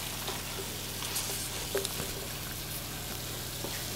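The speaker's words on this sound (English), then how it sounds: "So those are getting stirred in here." Citrus beef stir fry stirred in a hot pan, a steady broad sizzle with a few faint scrapes and clinks, fairly quiet and continuous, with no voices.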